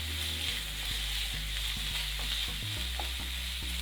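Finely chopped large onions sauté in a hot pan with a steady, even sizzle and faint stirring clicks, set against soft background music.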